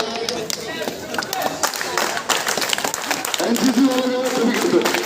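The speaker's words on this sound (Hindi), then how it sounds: "एक बार जोरदार तालियां" Crowd at an Independence Day school celebration applauding, brisk clapping that continues as a voice begins speaking over it toward the end.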